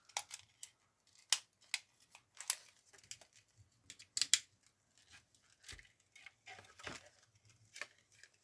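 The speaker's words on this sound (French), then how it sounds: "puis on coupe les petits bouts" Paper pieces of an advent calendar are cut apart with scissors in a string of crisp, close snips and light rustles, with brief pauses between cuts and no talking.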